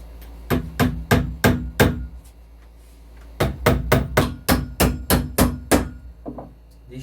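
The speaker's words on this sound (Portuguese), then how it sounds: "Vou pegar os meus pregos e o meu martelo e vou fixar essa rodinha aqui na boca do cano" A hammer drives nails to fix a small wheel onto the mouth of a PVC pipe, making two bursts of sharp, evenly spaced blows, about five then nine strikes, loud and close with a brief pause between.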